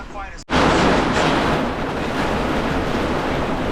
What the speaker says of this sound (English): Yep, the wind's picked up.